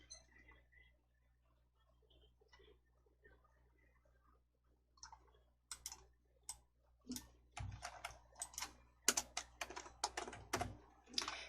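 Computer keyboard keys tapped in short irregular runs, faint and close, growing busier toward the end with a firmer press standing out among the clicks.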